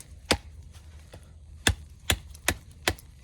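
A Tuff Gear Elbrus Gen 2, a medium-sized survival knife, chops into wood outdoors with five sharp, loud strikes, one lone hit and then four in a quick uneven run, with no talk.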